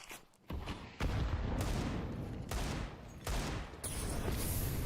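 A Counter-Strike HE grenade goes off amid a dense, loud burst of in-game gunfire and explosive crashes, several sharp blasts following one another over a few seconds.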